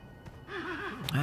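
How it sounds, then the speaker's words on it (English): A horse in the Western shooter Colt Canyon whinnies in a wavering, rising and falling cry that stands out loud and close over game ambience. "And I do see the horse freaking out"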